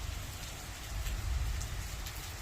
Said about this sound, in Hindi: इतनी ज़्यादा बारिश के नीचे खेतों में भर गया पानी।